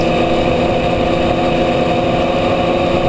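Formula Vee race car engine droning loud and steady from an onboard position during a 2014 NSW race, a continuous buzzing roar with no clear break for the missed gear shift.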